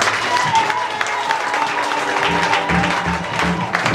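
A congregation at a church crusade applauding, a steady wash of clapping from a crowd that stays loud throughout, with voices mixed in.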